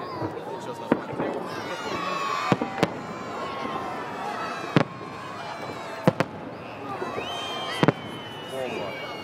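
Fireworks salute shells burst outdoors in sharp separate bangs, some doubled, spread irregularly over a background of crackle and distant voices.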